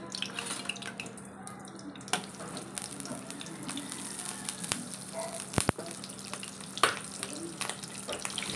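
Garlic and chili sizzle softly in butter and coconut oil, a faint steady frying hiss with occasional light clicks and taps of stirring, no talking.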